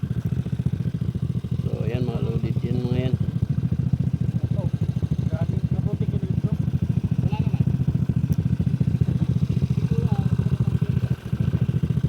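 Motorcycles ride through a shallow river, their steady mid-pitched engine drone running loud and continuous throughout, with people talking over it.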